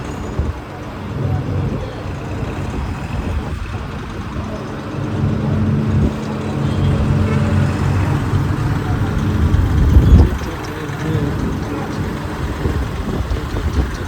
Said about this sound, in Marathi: बघा एक एक गाड्या येतात अशा.